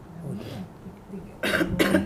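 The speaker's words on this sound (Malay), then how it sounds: "Batuk ni memang batuk ke? Memang batuk." Two sharp coughs come close together near the end, loud and close, following some faint murmuring.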